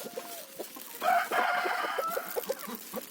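Chickens cluck nearby in short repeated bursts, with one louder drawn-out squawking call in the middle; no talking.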